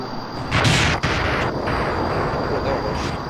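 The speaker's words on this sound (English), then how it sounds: "Got the explosion." A game explosion in Kerbal Space Program, from a fighter jet build, bursts as a loud broadband blast after half a second, followed by a sustained roaring rumble that lingers to the end.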